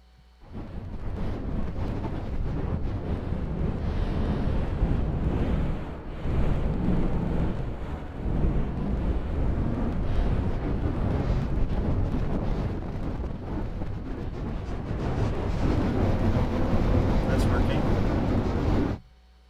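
A dense, rumbling Kyma-synthesized texture swells and roars steadily throughout, panned by tilting a Wacom tablet pen, with someone talking over it.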